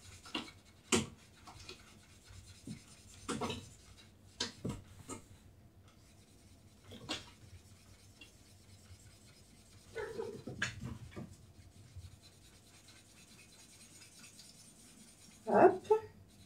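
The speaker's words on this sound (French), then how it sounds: "je colorise le restant de ma fleur" Markers scratch and rub across paper while a flower is coloured in, short strokes coming in scattered bursts with quiet gaps between them, close and faint, and a voice speaks softly at times.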